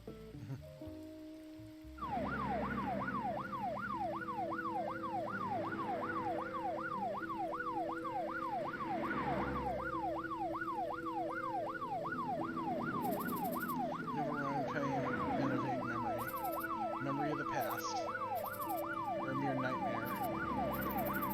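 In the video game Troubleshooter: Abandoned Children, an ambulance siren wails in a fast, steady up-and-down pattern for about twenty seconds, loud and continuous over a soft background hiss resembling rain.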